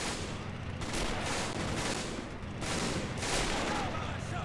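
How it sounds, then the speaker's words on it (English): Panzer tanks fire as they drive past in a video game war scene, a dense rolling barrage of gunfire and booms layered over constant battle noise, loud and continuous. "Panzer tanks assisting us as well from the supply route. Shooting as they drive past, very helpful"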